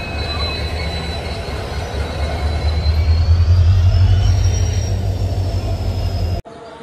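A train pulled by a diesel locomotive rolls through Jaunpur Junction with a loud, steady rumble and high squealing wheels, swelling in the middle before cutting off abruptly.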